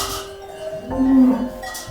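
Cows low in a barn at dawn: one close, loud, drawn-out moo rises over a quiet stable hum with faint tonal background noise, and no talking.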